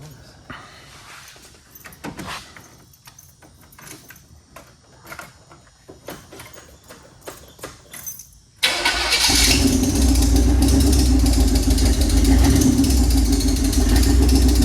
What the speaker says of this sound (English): we're gonna crank it up, let it run a second, add some more fluid